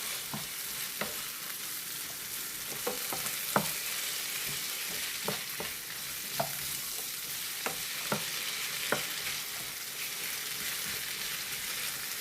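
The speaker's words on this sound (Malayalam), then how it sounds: "നന്നായി ഇളക്കി കൊടുക്കുക." Raw plantain stir-fry (mezhukkupuratti) sizzles steadily in a pan while being stirred, with a continuous frying hiss broken by repeated scraping clicks of a spoon throughout, close and alone without talk.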